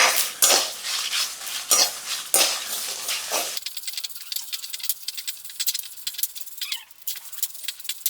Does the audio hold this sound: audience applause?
no